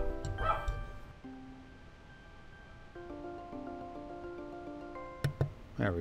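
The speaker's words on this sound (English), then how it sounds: "Oh, my dogs are barking." Dogs bark a few times at a distance, faint yips and woofs that come in brief bursts, with other quiet tonal sounds in the background.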